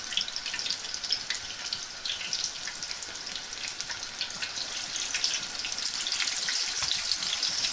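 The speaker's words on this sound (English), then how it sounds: "I'm going to quickly wash my hands to show you." Hands are washed under a running kitchen tap while cooking pakoras, giving a continuous bright hiss of flowing water that grows slightly louder toward the end, with no talking.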